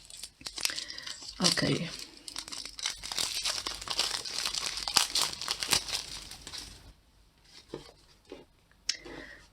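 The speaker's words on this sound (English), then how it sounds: "I cut the plastic off" Plastic wrap is cut with a small knife and torn off a pocket-size Santa Muerte tarot deck, giving a close, steady crinkling and ripping that lasts several seconds before going quiet; a voice speaks briefly near the end.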